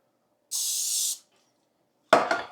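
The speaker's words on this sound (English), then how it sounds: "Now I'm going to get a baking dish, spray it with Pam." A steady hiss of Pam cooking spray onto a baking dish lasts under a second, followed by a brief clatter of handling sounds.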